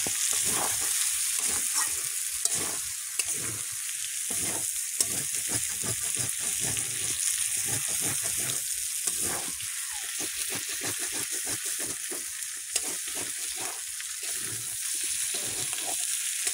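Chicken meat frying in a pan and being stirred: a steady close sizzle broken by frequent scraping and clacking strokes of a spoon, with no talking.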